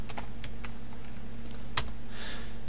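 Typing on a computer keyboard while entering a second number into a Python program: a short run of quick, light key clicks, close and clear, with one sharper tap near the end and no voices.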